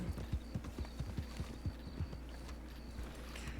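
Horse hooves clip-clop in a Red Dead Redemption 2 roleplay game set in 1903, a steady rhythmic series of close hoof strikes at a walking pace over a low background hum.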